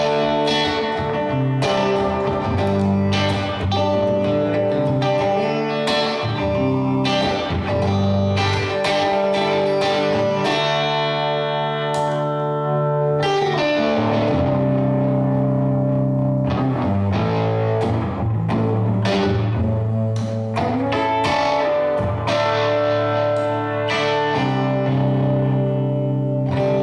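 An electric guitar played through a Lazy J amplifier rings out in sustained, distorted chords and notes with reverb and echo, dense and loud throughout, with no talking.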